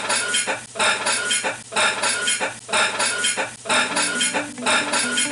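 Dishes and cutlery clatter in a kitchen in a rhythmic beat of repeated clinks and knocks, with a low tone running underneath, loud and close with no talk.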